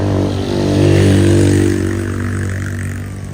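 A motorcycle on a road passes close by during a funeral procession in Rantepao. The engine is a loud, steady drone that swells and then fades slightly, with no talk over it.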